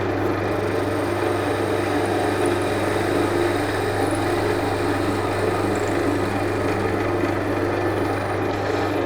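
A wood lathe running with a skew chisel cutting along a spinning workpiece, a steady droning motor hum under a constant close hiss of shaving wood, unbroken for the whole stretch and with no speech.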